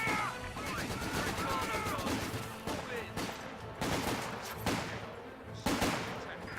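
A Vickers machine gun fires in a battlefield video game, with rapid bursts and repeated sharp reports over several seconds among other distant gunfire, fairly quiet overall with voices talking underneath.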